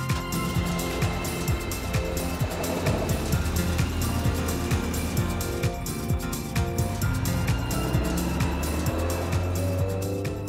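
A Ferrari Dino GT4 is driven on the road, its engine droning steadily through the whole stretch with shifting revs and road noise, recorded close.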